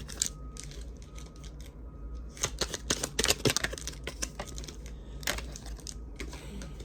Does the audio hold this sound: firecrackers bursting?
no